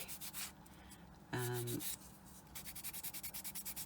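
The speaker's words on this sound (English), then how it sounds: "Just going to take them burrs off that were left over from the cutter." Rapid, rhythmic rubbing strokes smooth the burred edges of a polymer clay pendant, a close scratchy sanding sound in quick repeated bursts, briefly interrupted by a short tonal hum.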